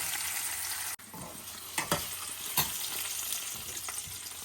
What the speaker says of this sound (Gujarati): મરચા મેં તેલમાં આવી રીતે ચટલા કરી નાખ્યા છે, તળી લીધા છે